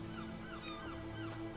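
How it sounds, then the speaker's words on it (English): Seagulls in the video game RiME give loud, repeated squawking calls over a steady ocean-and-wind ambience, with no speech. "they've got accurate seagull volume, which is to say very loud"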